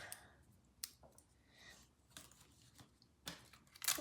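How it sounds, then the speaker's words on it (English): Tape pulled and pressed onto a homemade toy nunchuck, faint scattered crinkles and sharp tearing clicks at close range in a quiet room. "I'm gonna tape the middle to make sure it's nice and sturdy"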